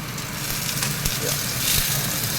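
Sliced onions sizzling in hot oil in a pan at the start of a pork kaldereta, a close, steady hiss and crackle with a voice speaking over it.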